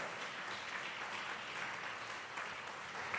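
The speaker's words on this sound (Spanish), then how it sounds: "Hay aplausos fuertes para el Dios Todopoderoso." A church congregation during a Spanish-language sermon applauds steadily, a faint, distant wash of continuous clapping with no pauses.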